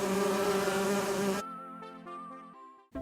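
A cartoonish insect buzz from an angry beehive in the Teenagent adventure game: a dense, loud droning swarm for over a second, then thinner wavering buzzing tones that trail off before a short final burst.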